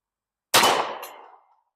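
A Winchester 10mm 200-grain round is fired from a Ruger LC Carbine at an outdoor range: one loud, sharp report that fades over about a second.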